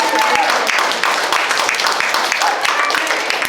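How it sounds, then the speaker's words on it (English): Close, loud applause from an audience at a public speech contest rolls on for all the contestants, many hands clapping densely, with scattered distinct claps near the front. "final round of applause for all the contestants"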